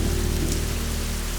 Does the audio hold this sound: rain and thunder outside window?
yes